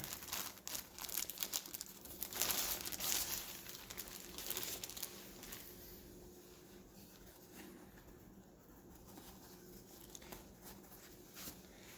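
Plastic packaging crinkles and rustles up close as an original 1969 ERDL boonie hat is unwrapped, loudest in the first few seconds before settling into quieter handling noises.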